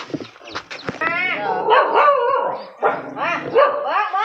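A dog barks close by in a run of sharp barks and high yips, mixed with whining, rising cries, with no talk in between.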